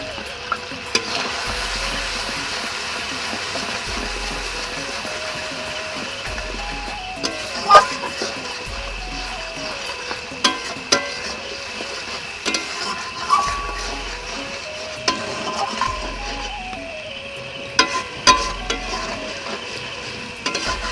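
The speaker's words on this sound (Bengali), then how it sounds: "খুন্তি দিয়ে নাড়তে হবে আদা রসুনগুলো তেলের সাথে একটু ভালো করে মাখিয়ে গেলে" Ginger, garlic and meat frying in oil while a spatula stirs them, with steady sizzling under repeated scraping and clinking strokes against the pan.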